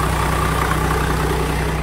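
A 1997 Toyota Land Cruiser VX Limited HDJ81R with a manual gearbox sits idling, its engine giving a loud, steady low rumble and hum close by, unbroken and with no one speaking.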